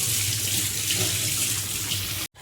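Running tap water pours into a sink while dishes are washed, a steady close hiss and splash lasting a couple of seconds before cutting off abruptly, with no speech.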